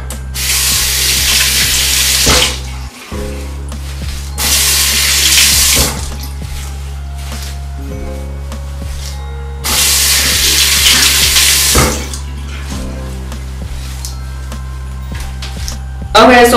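Water sprayed onto hair during a styling routine with water and mousse: several long, loud hissing bursts of a few seconds each, separated by quieter stretches with a steady low hum.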